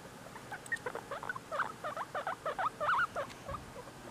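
A baby guinea pig squeaks in a quick series of faint, high chirps and whistles, close by in a quiet room.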